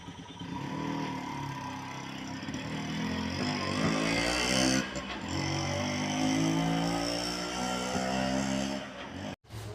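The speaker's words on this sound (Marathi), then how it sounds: "आता इथे आला आहे रिक्षा" An auto rickshaw's small engine drones and revs close by, rising and shifting in pitch as it pulls up, with a brief abrupt cutoff near the end.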